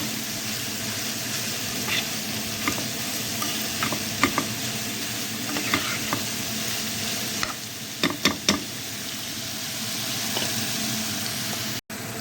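Beef sisig stirred in a hot pan, a steady broadband sizzle throughout with scattered scraping clicks of the spatula against the pan, loudest in a cluster of knocks near the end, close and without speech.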